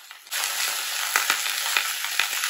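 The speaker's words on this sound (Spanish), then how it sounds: "ya el aceite ya está caliente. Ahí van los camarones." Shrimp sizzle and crackle loudly in hot oil, a dense, steady frying hiss that starts abruptly as they drop into the pan, with occasional sharper pops, close and without talk.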